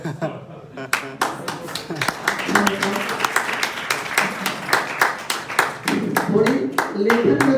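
An audience at a prize-giving ceremony applauds with brisk, fairly regular clapping that runs the whole time, loud and close, while a voice speaks over it.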